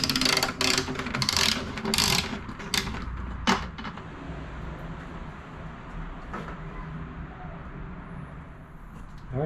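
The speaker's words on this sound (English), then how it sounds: "It'll reveal a 12mm bolt, which you can undo with a ratchet." Ratchet clicking as it undoes a 12mm bolt on a Toyota FJ Cruiser spare tire mount, several bursts of close, sharp clicks in the first few seconds, then quieter handling noise.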